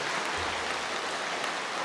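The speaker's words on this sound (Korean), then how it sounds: "제가 설교 중에 박수를 받은 거 드문 일입니다." A church congregation applauds during an Easter sermon, a steady, dense clapping that fills the room at moderate volume from start to finish with no speech over it.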